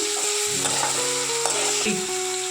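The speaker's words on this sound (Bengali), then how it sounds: "তারপরে টমেটোটা নিয়ে ভেজে নেব একটু।" Chopped tomato with garlic and green chilli frying in a pan, a steady close sizzle with bursts of stirring scrapes and clinks throughout, no voices.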